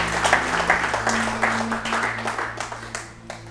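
A church congregation claps and cheers in a steady, crowded wash of applause, with voices mixed in over a low hum, swelling and easing across a few seconds.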